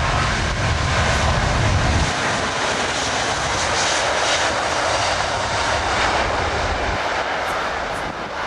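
An Airbus A380 takes off at the Farnborough air show, its jet engines roaring in a loud, broad, continuous rush that holds steady for several seconds as the aircraft climbs away.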